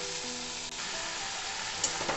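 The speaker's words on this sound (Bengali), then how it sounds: "আমি আলু বেগুনগুলো খুব সুন্দর ভাজা হয়ে গেছে" Potatoes and eggplant frying in oil in a pan, a dense steady close sizzle with faint stirring clinks, continuous and unbroken, no voices.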